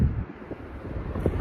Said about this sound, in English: Ooh, it got windy.